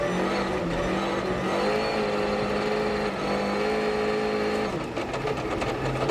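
A World Rally car at Monte Carlo scrabbles for grip out of a hairpin, its engine note climbing steadily and loud, then dropping off as it clears the corner, alone with no voices.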